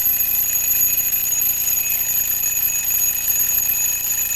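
An alarm clock rings nonstop, a steady, loud, shrill electric ring with a persistent high whine, in a small science-demonstration setting where a microphone sensor spins a motor when sound reaches it.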